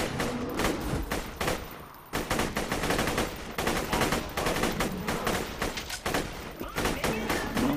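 Rifle fire in Borderlands 2 in rapid, near-continuous bursts with a brief pause around two seconds, loud and dense, mixed with game effects.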